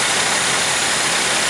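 The engine of a 1947 Dodge idles with a steady, even drone close by, loud and unbroken, with no voices.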